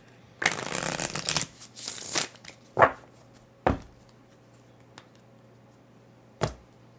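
Playing cards riffle-shuffled up close, a long rustling flutter followed by a shorter one, then several sharp taps as the deck is squared.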